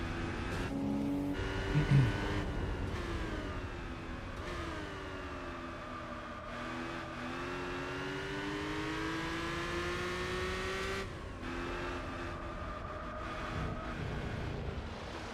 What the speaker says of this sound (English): listen to its turbo. Ah, spooling up